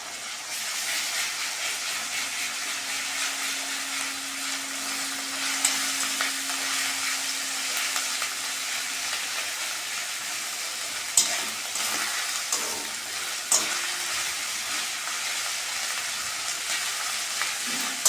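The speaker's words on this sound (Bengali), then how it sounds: "আদা রসুন ভালো করে ভেজে নিয়েছি।" Ginger-garlic paste fries with onions in a pan, giving a steady close hiss and crackle of hot oil with a few sharp stirring clinks against the pan, no talking.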